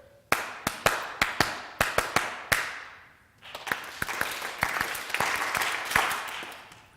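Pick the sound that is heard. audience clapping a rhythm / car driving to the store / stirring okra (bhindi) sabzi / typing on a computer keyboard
audience clapping a rhythm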